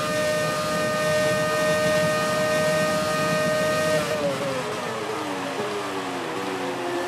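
A Formula 1 car in the F1 2017 racing game screams down a straight at high revs near 200 mph, a loud sustained whine that drops in pitch at an upshift into seventh gear, then climbs again.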